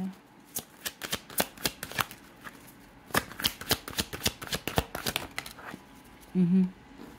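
A deck of tarot cards is shuffled close up, with rapid bursts of riffling and snapping in an uneven rhythm, then a short pause and a brief hum near the end.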